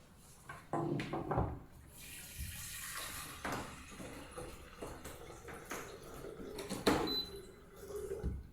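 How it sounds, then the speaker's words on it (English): Water poured into an electric kettle from a tray set, a quiet splashing and filling sound with intermittent clatters of handling, fairly close and faint. "I pour some water just exceed the minimum line."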